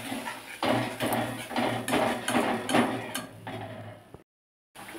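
Spice paste for a Bengali pumpkin curry, loosened with water, stirred and fried in a pan: a steady run of scraping, clinking spatula strokes against metal, fairly close, ending in a brief silence with no talk.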